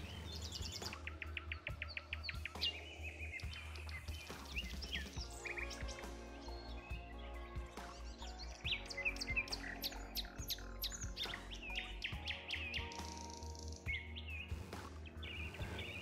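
Birds sing in a forest at twilight, a dense chorus of many chirps, tweets and trills layered near and far without pause, with some sharper squawks mixed in.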